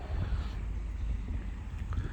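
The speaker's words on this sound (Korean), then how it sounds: "야 바람이 부네. 오. 바람 소리 들려요?" Low, gusty wind rumbling steadily against the microphone as it leaks through a door gap at a foot-bath site in Boryeong, South Chungcheong, Korea, a continuous blustery roar with no voices.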